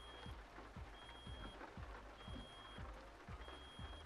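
Warning beeps sound in a truck cab in Euro Truck Simulator 2 after the engine is switched off, a regular repeating beep over a low, faint engine rumble with dull periodic thumps.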